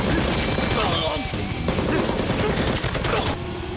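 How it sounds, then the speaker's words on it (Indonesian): A film shootout plays out as rapid bursts of gunfire and machine-gun fusillades, loud and dense, with voices mixed in underneath the shots. "Baku tembak selesai."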